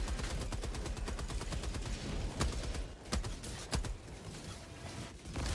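Continuous, fairly faint rapid gunfire from the Helldivers 2 game, with dense automatic bursts and a few sharper, louder shots standing out over the steady rattle.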